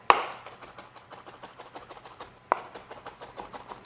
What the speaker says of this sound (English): Just rock your knife until you think it's nicely minced.